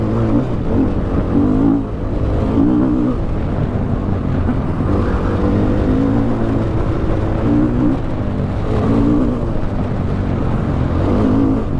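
A 2016 KTM 500 EXC dirt bike engine runs hard at speed, a loud, sustained close-up drone with throttle surges and some wind rush, with no talking.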